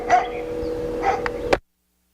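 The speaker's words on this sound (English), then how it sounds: "I wish that dog would stop barking." A dog barking in a 1998 FMV thriller video game, a few short yips and barks over a low hum before cutting to silence.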